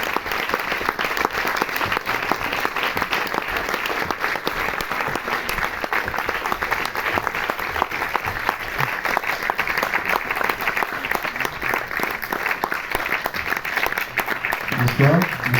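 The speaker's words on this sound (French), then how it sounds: "Donc je vous invite à les applaudir." A cinema audience applauds a film's director and lead actress at a screening presentation, dense sustained clapping from a full room lasting the whole stretch, loud and even.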